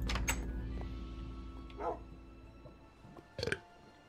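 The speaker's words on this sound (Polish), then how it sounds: "O, pies jest głodny, jęczy." A hungry dog in the Minecraft video game gives a few short, thin whimpers, faint and spaced apart over a quiet game background.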